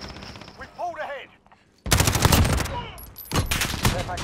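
Rapid video game machine-gun fire erupts loud and dense after a short spoken exchange, sustained bursts with a brief pause and then resuming.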